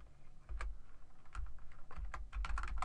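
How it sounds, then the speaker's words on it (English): Typing on a computer keyboard while entering CSS code, a steady run of close, quick key clicks with no talk. "So we're going to type in max width."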